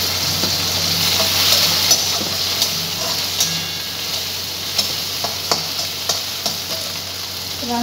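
Tomato frying in a pan of sizzling oil while a spoon stirs it, a steady hiss under scattered scraping clicks from the stirring, close up with no talking.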